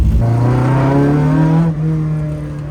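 A sports car engine revs up loudly, its pitch climbing steadily through acceleration before dropping as it shifts, close and powerful.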